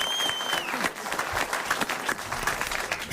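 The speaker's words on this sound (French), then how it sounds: "Je vous demande d'applaudir Léa Drucker et Michael Youn" A French television studio audience bursts into loud, steady applause for guests Léa Drucker and Michael Youn, dense clapping filling the room with a faint cheer and whistle near the start.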